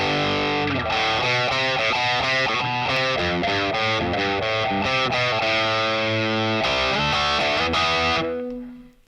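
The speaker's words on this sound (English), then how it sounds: "Just add a little bit of reverb, but I like the plate reverb, especially for metal." Distorted electric guitar played through a Boss Katana Mk2 amp with plate reverb, a metal-style riff of chugging chords and bright notes, loud and continuous, then ringing out with a reverb tail at the end; no talking.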